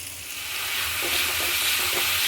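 Ginger paste sizzles with spices in hot oil, a dense hiss that swells and then holds steady, heard up close with faint stirring and no voices.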